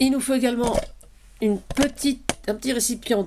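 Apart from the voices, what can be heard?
No everyday noises stand out.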